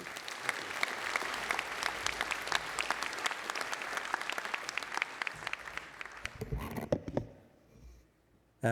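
A lecture audience applauding to welcome a speaker, a dense, steady clatter of many hands that thins out and fades after about seven seconds, ending in near silence.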